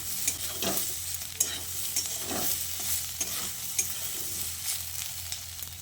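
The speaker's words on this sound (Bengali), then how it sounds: "আদাটাকে দিয়ে আবারও ভেন্ডি আলুর সঙ্গে ভালো করে মিশিয়ে নিচ্ছি।" Okra and potato pieces fry with grated ginger in a pan, a continuous sizzle punctuated by repeated spatula scrapes and knocks every second or so. Near and moderately loud, without speech.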